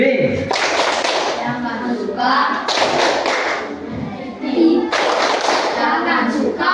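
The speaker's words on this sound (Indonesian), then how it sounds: "Tepuk anti bullying" A group of schoolchildren performs an anti-bullying clap chant in a classroom, loud rhythmic bursts of clapping and thumping mixed with their voices chanting together in unison.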